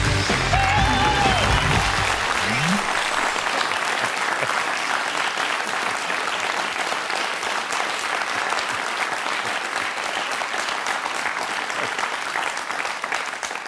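Sustained audience applause fills a German TV comedy show studio, steady and dense after a brief moment of a voice at the start, continuing evenly throughout.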